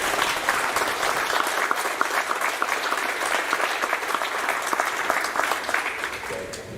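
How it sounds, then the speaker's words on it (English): Audience at an award ceremony applauds steadily, a dense, even wash of many hands clapping that holds at full strength for several seconds before easing slightly at the end. "Let's give them a nice round of applause."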